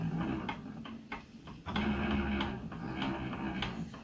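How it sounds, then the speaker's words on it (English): A spinning wheel turns steadily while yarn is spun onto its bobbin, giving a close, continuous mechanical whir with a soft repeating tick-like rhythm and no voices. "It's an interesting noise my bobbin is making"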